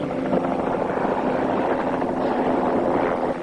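A helicopter flies nearby with a loud, steady whirring drone of rotor and engine that holds constant throughout and has no speech over it.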